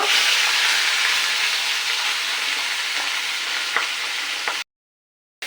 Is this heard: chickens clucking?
no